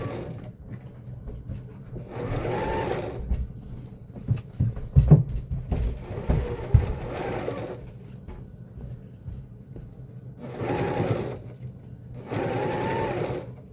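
A sewing machine stitches a pinned scarf seam in several bursts of steady whirring, with quieter gaps and a few clicks and bumps between runs.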